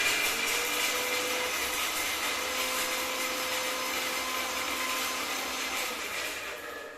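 A Croma 500 watt mixer grinder running on its lowest setting, a continuous loud whirring motor drone that holds steady throughout and eases slightly toward the end, with no talking.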